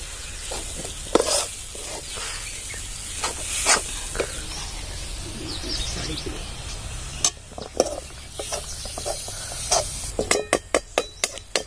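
Cabbage besan with onion, tomato, garlic and cumin stirred in a pan in a village home kitchen: a steady sizzle under repeated scraping strokes, with a quick burst of sharp taps near the end.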